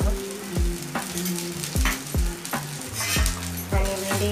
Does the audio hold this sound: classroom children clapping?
no